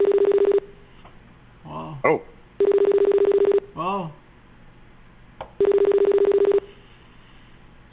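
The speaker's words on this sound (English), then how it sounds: "That ringtone." Three loud, steady electronic phone ringtone bursts, each lasting about a second, with short voiced exclamations in the gaps between them.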